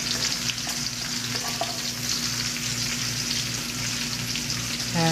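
Oyster mushroom pieces coated in cornstarch fry in coconut oil, giving a steady, close, dense sizzle that runs without pause, with a few small stirring clicks near the end.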